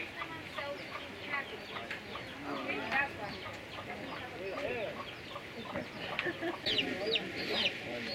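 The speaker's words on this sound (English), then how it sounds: "All these chickens eating little scraps thrown out for them." Chickens cluck and squawk around a basic yard of little pens while pecking at thrown-out scraps, with sharper calls from an irate hen toward the end, moderately close.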